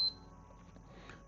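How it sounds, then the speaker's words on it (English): A PlayStation 5 console under repair gives a single short, high electronic beep right at the start, followed by a low, steady background hum. "Beeps."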